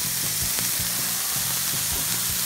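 Bacon sizzles and crackles steadily in a hot pan, loud and close, with no voices.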